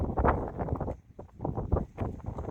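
Strong wind gusts buffet the microphone while walking near Yat Tung Pier on Lantau Island, a rough low rumble swelling and dipping in bursts, loud and close.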